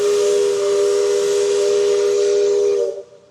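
The Liberty Belle riverboat's steam whistle at Magic Kingdom blows one long, loud, steady hiss-laden blast lasting about three seconds, then cuts off abruptly.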